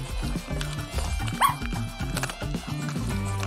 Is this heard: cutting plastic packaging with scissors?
no